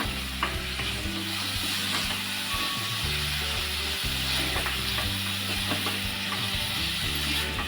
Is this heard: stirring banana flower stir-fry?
yes